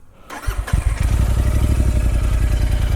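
A Royal Enfield Interceptor 650 motorcycle engine catches and settles into a loud, close, rapid twin-cylinder thrum, steady and throbbing after a brief starting clatter.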